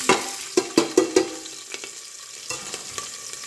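Chopped onion and green chillies frying in a pan for breakfast biryani, with several sharp close spatula scrapes and taps over a low continuous sizzle.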